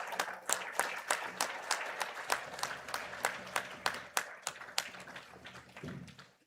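Audience at a university graduation ceremony applauding the head of state: fairly sparse, distinct hand claps from a crowd, individual sharp slaps standing out in an irregular rhythm, moderately distant and tapering at the end.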